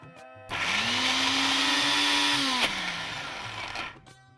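A mixer grinder crushing ingredients with a little added water, starting abruptly with a loud steady whir that holds for about three seconds, then winds down and stops.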